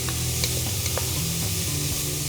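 Corn sautéing in a hot pan for a corn and chicken chowder, a steady close sizzle with light scraping and stirring clicks, no voices.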